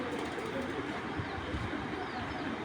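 A female pigeon with a 2017 leg ring gives faint, low coos, nearly buried in a steady, loud background hiss and rumble.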